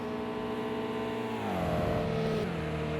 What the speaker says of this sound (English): Geez, he's on the rev limiter coming into that corner, isn't he?